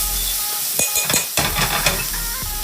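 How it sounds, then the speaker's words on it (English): Ginger fries in a pan with a steady close sizzle, while a utensil stirs and scrapes against the pan in several quick strokes. Nobody speaks. "Just fry that off for a few minutes"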